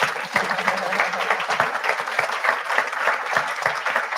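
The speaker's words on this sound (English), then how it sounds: "Can you two please stand up for one more round of applause for the two of you?" Studio audience clapping in a steady, dense burst of applause, fairly close and loud, lasting the whole stretch without pause.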